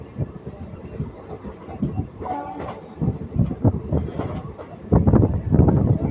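A passenger train running from Kacheguda to Guntakal pulls into Umdanagar railway station for a one-minute stop, with rumbling wheels and clanking carriages. Voices and platform noise come in and out alongside, growing busier toward the end.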